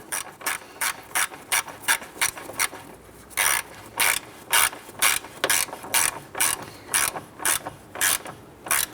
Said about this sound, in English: Now I'm just going to snug these down by hand.